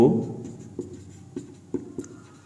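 Chalk or marker writing on a board during a physics lesson makes a few short scratchy taps and strokes, spaced irregularly and fairly faint, with room tone between them.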